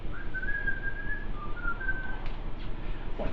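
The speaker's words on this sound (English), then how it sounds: "got carried away with whistling sea shanties" A person whistles sea shanty melodies, a few sustained tuneful phrases that wander up and down at moderate volume over a low background hum, stopping partway through.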